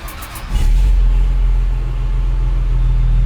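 A Hercules Trackmobile railcar mover's engine catches and starts, a brief cranking whine giving way to a loud, steady low diesel rumble that holds at idle close by.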